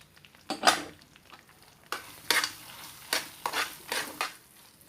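A spoon stirs Annavaram Satyanarayana Swamy prasadam in a pan after dry fruits go in, making repeated scraping sweeps against the metal at an irregular pace, with a soft sizzle underneath and no talking.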